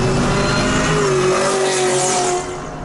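A supercharged 2017 Chevrolet Camaro ZL1 with a loud exhaust revs hard and close, its engine note climbing and holding before dropping off near the end, with no talk.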